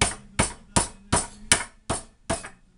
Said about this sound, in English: And then we take our hammer again. Time to get frustrations out again. And we're going to pound it out.